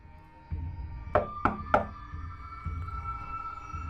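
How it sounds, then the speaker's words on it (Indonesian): Three quick, evenly spaced knocks rap on the front door of a house, fairly close and distinct against a quiet, low background hum. "Tiba-tiba terdengar suara ketukan dari pintu depan rumahnya."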